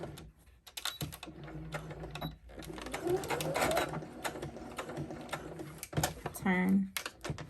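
A sewing machine stitches a bridesmaid dress in short runs, its rapid mechanical whir starting and stopping between pauses, with someone talking nearby.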